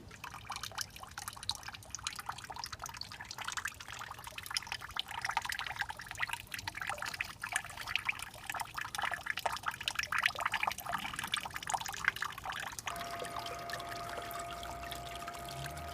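Water pours and trickles steadily during gold panning on the North Saskatchewan River, a soft, continuous splashing wash that shifts to a lighter trickle near the end, with no voices.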